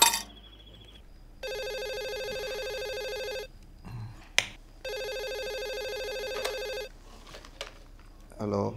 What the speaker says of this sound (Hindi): चल इंजीनियर साहब को फोन करते हैं।